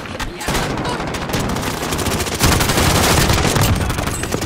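Rapid automatic gunfire in the Warzone video game, a dense sustained burst of shots loud throughout, with faint voices mixed underneath.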